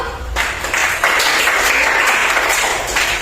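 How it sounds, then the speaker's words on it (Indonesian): A group of students in a classroom applauds a presenting group, a dense burst of clapping that begins after a brief pause and stays loud and sustained throughout. "sekali lagi boleh kasih tepuk tangan untuk kelompok 1"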